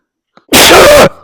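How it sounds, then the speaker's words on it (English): A single loud sneeze from a person outdoors in a vegetable garden, a sharp burst lasting about half a second after a faint intake of breath, followed by a quiet tail. "Had to sneeze."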